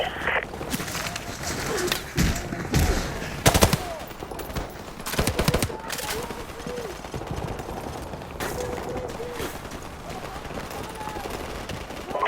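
Gunfire in a Call of Duty: Modern Warfare Remastered campaign firefight, with scattered shots and short bursts over steady battle ambience while voices call out in the background.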